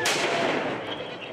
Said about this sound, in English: Groups throw fireworks at police.